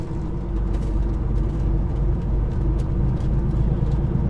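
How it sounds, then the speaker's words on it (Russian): A truck rolls along a highway in traffic, its engine and tyre rumble forming a steady, loud low drone with a few brief higher swishes passing through. "Да, вот и она. Трасса. Хайвей."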